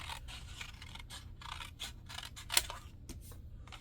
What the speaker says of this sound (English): going to get my scissors, and I'm going to rescue the 2 flower petals